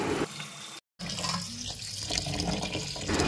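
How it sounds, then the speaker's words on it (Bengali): Basmati rice being rinsed in water, a steady close splashing and trickling with a short cut of silence near the start, no voices. "আমি প্রথমে চালগুলোকে ভালো করে ধুয়ে নিচ্ছি।"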